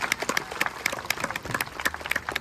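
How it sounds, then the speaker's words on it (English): An audience at a birds of prey show in a safari park applauds the trainer, with a lively burst of clapping from a moderate-sized crowd, a few sharp nearby claps standing out over the rest. "Let's give our trainer a big round of applause."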